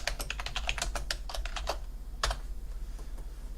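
Fast, uneven keystrokes on a computer keyboard, close and crisp, a quick run of clicks followed by a pause and a couple of isolated taps, with no talking.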